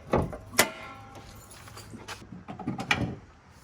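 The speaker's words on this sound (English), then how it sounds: "But first we want to pop the hood and open the brake reservoir." On a Scion xA/xB, the hood release is pulled and the hood popped open, giving a few sharp metallic clicks and clunks with a faint rattle between them, close by and with no talking.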